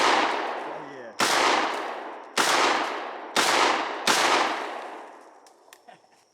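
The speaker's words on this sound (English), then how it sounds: "One day we're gonna cut this tree down by shooting at it." Four loud, sharp shotgun blasts from an American Tactical Bulldog fired at a tree outdoors, each with a long ringing decay, spaced about a second apart after an opening shot already fading, then faint rattling and clicks.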